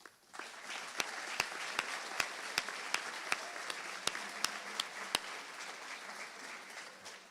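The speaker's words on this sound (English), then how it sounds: "I'd like for us to give a round of applause to all of the Rossville students here today." Quiet, sparse audience applause at a high school awards ceremony, with scattered distinct claps over a soft bed of clapping, somewhat distant.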